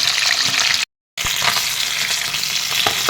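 Fish frying in a pan for a curry with green peas and tomato, a steady close crackling sizzle that drops out briefly for a moment before resuming at the same level.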